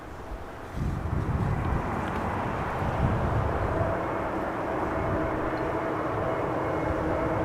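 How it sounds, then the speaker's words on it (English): A five-year-old KLM Airbus A320neo arrives from Malta on Schiphol's Kaagbaan runway with a faint, distant, steady jet rumble that swells slightly after the first second and stays even. "Now there's also an A320neo from Malta coming this way on the Kaagbaan"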